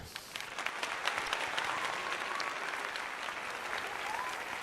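Applause plays from a stream deck soundboard during a live basketball play-by-play stream, a steady recorded crowd clapping at moderate level that continues evenly with a faint voice beneath it.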